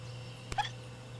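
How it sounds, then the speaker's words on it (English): A baby bat gives a single tiny hiccup, a faint short click followed by a thin squeaky chirp, heard once against a quiet, humming room background. "Got the hiccups. The bat has the hiccups."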